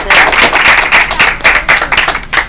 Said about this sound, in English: if we could give Lewis a round of applause